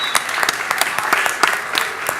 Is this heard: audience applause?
yes